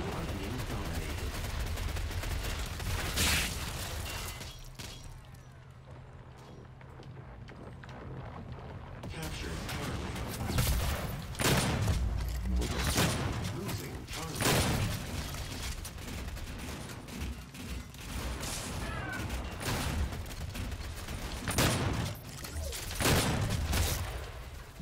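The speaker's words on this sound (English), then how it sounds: "Two shotgun shots to the face and kill him, of course." Repeated loud gunfire blasts, including shotgun shots, in a DOOM online multiplayer match, scattered among game effects and busy action noise with bursts of short, sharp impacts throughout.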